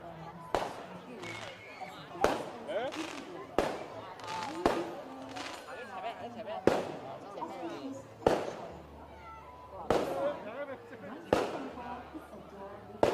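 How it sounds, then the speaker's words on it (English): Fireworks bursting at a Lunar New Year celebration in Malaysia, a series of sharp loud bangs repeating roughly every second or so, with crowd chatter and voices underneath. "Fireworks are, of course, another key part of the Lunar New Year celebration here."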